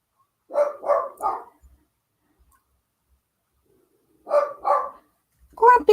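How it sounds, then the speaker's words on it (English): A dog indoors barks in two short bursts, three sharp close woofs then a pause and two more, followed by a further yelp at the end, with quiet between. "what are you barking at?"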